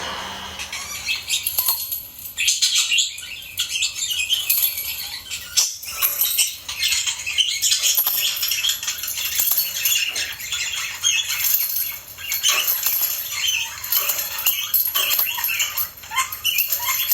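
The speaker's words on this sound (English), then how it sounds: "I also received a lot of bird chirping recordings." Birds chirping and squawking outdoors in a field recording, a dense, busy chatter of many calls and rustling patter continuing throughout at moderate volume, with no talk.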